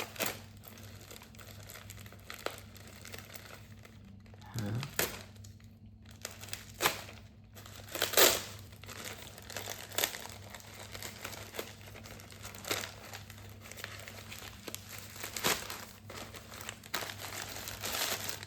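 Plastic packaging crinkles and crackles in bursts as weird packaging is opened, a package inside a package of retro video game pickups, close and fairly quiet, with sharper tearing rustles spaced through the stretch and no talking.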